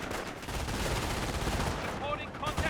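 An MG42 machine gun fires in Company of Heroes as a dense, loud stream of rapid shots without a break, with a voice heard faintly under it.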